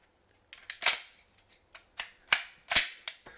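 Sharp close mechanical clicks of a pistol trigger breaking and resetting with a very short reset, several crisp snaps in an uneven sequence, loud and dry with no talking.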